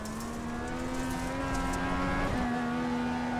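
FIA Cross Car rallycross engine in the iRacing sim at Winton Rallycross, a steady high droning whine held near constant, briefly dipping and recovering as the car shifts, close and continuous with no talk.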